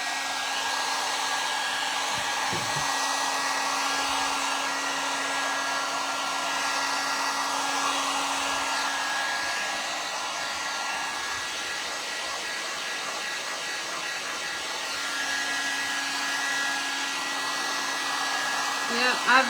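A hair dryer blows continuously at close range while drying handmade table decor at a craft table, a loud, steady whooshing roar that holds for the full duration with no voices.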